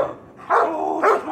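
A dog gives two short, close barks about half a second apart, each a sharp burst that trails into a brief tone.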